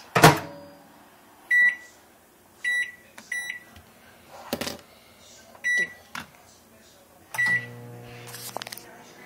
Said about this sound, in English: then you put it in the microwave